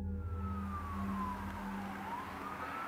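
Police car sirens in a city, a wailing tone sweeping slowly down and back up over a low rumble of traffic and engine noise, fairly close and steady, with no talk.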